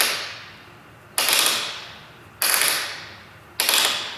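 A 4mm Allen key works a factory-Loctited bolt loose on the rear master cylinder of a 2015 Suzuki GSX-R600, giving three sharp ratcheting bursts about a second apart, each fading out before the next, close and fairly loud.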